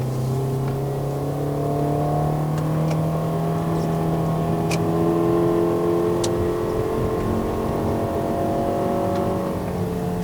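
A Toyota Estima 2.4L XR50 minivan strains uphill in first gear on a mountain road in Malaysia, its naturally aspirated engine droning at high revs with a steady, rising whine and no talk.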